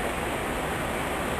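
Water runs steadily from a refrigerator's filtered dispenser into a container, a constant close hiss with no pauses, heard on its own.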